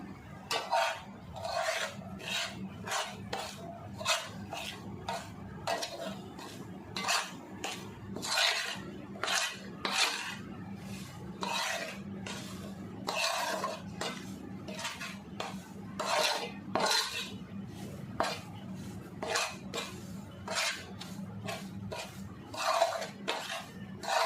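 A spoon scrapes and rubs rhythmically through raw mango pickle mixed with spices and warm oil in a metal bowl, producing repeated close gritty strokes throughout with no talking.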